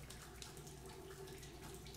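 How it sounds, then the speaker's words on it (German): Water steadily running and draining from a tap in a washroom in the video game Bioshock Infinite, a continuous close hiss without pauses. "Wie hier Wasser unten rausläuft, obwohl oben keins reinkommt."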